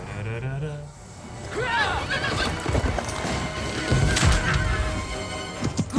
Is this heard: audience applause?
no